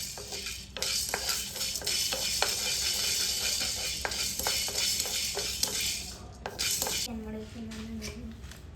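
Two tablespoons of black pepper frying on a low flame in a wide pan make a steady broadband sizzle, with repeated light clinks and scrapes of a spoon stirring against the metal.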